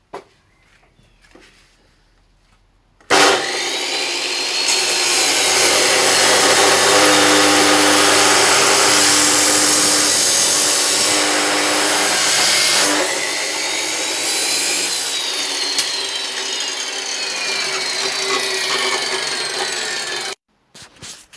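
Metal bars for a car spit being cut to 45-degree angles with a power saw, a loud continuous grinding cut running steadily for about seventeen seconds after a quiet start, then stopping abruptly.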